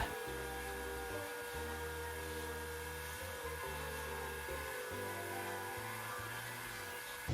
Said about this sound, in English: I grabbed my vacuum to collect most of the dust